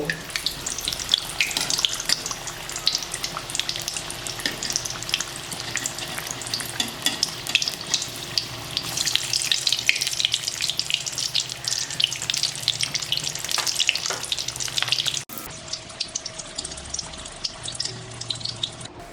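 Chili fritters, mirchi vada, frying in hot oil: a steady close crackling sizzle with bubbling throughout, softening slightly near the end.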